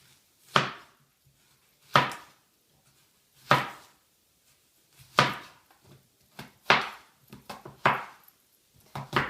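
Knife chopping red onions on a board for a bruschetta and salsa dish: sharp, crisp cuts spaced a second or more apart at first, then quicker, closer strokes, nearby and clear with no talking.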